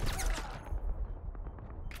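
Gunfire in a Battlefield match on the Seine Crossing map: a dense burst of rapid shots crackles at the start, then scattered quieter shots and thumps follow over a low rumbling background.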